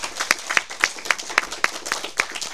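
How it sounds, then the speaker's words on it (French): Sparse clapping in a French conference hall during a colloquium on long COVID, a handful of sharp, evenly spaced claps over a couple of seconds, fairly close and moderately loud with no talk over them. "je vous demande aussi si c'était possible d'applaudir."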